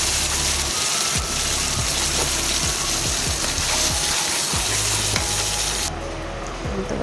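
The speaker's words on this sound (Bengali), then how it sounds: "এটা এখন ভালো করে একটু মিশিয়ে নেব, কষিয়ে নেব।" Spice paste for egg malai curry, made with Kashmiri chilli powder, sizzles and crackles steadily in hot oil while being stirred and fried, loud and close throughout.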